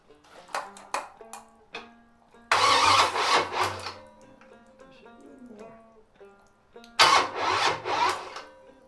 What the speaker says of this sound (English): Don't know if I got enough gas left in the line to fire it up